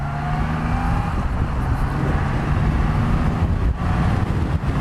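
A 2020 Triumph Rocket 3 GT motorcycle pulls away with a loud, close engine drone rising in pitch through smooth gear changes, mixed with heavy wind rush and no speech.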